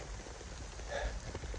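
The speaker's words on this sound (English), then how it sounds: "we are getting hail" Steady hiss of rain mixed with small hail pelting down at a mountain campsite, a dense continuous patter close by with no talking.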